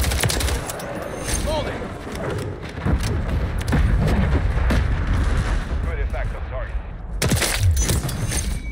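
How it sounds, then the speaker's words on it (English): Heavy barrage of explosions and gunfire from an airstrike and cruise missile strike in Call of Duty MW3, dense booms and rumbling blasts filling the whole stretch, loud and continuous with a fresh burst near the end. "I'll let that drop first and then I'll bring my cruise missile in."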